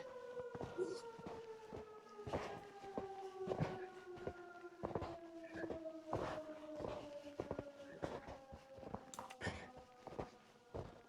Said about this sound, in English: they got the siren going and everything